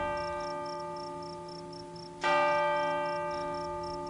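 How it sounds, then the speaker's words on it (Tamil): A large temple bell strikes once at midnight from a tower hall, loud and resonant, its ringing tone decaying slowly over a quiet background of steady chirping insects. "நடுராத்திரியை அறிவிக்கும் கண்டாமணி உச்சி மண்டபத்திலிருந்து ஒலித்தது"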